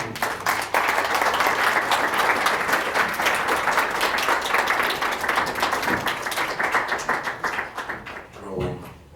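Audience applause after a speech on functional illiteracy in Latin America: dense, loud clapping fills about eight seconds, then tapers off as a voice starts speaking near the end.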